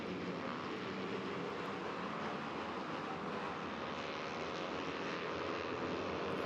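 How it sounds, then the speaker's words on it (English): Racing motorcycle engine under full throttle at a cub prix race on the Sepang South circuit, a steady, loud, unbroken high-revving drone lasting the whole stretch. "And here's Amirul Arif really getting the throttle on"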